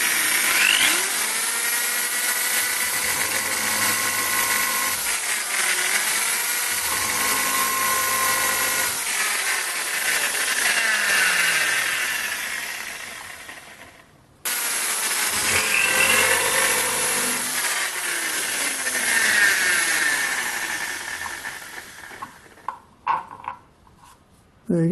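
A countersink drill bit bores into timber with a high, steady whine that dips as it bites, stops abruptly midway, then resumes for a second pass before winding down in scattered knocks.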